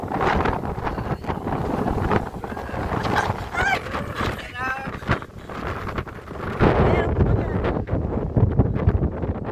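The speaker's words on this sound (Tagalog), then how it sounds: "Hangin." Gusty outdoor wind buffets the microphone in surges, roaring louder toward the end, while people talk and call out over it.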